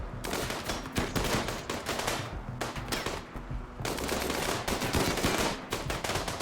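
Rapid gunfire crackles in RimWorld combat, dense bursts of automatic shots with brief gaps, steady and fairly distant, alone.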